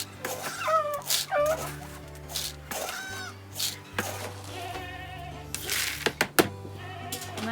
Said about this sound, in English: If you can hear them hollering out there, it's because they're hungry.